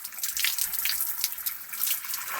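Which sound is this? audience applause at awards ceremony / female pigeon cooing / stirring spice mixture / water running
water running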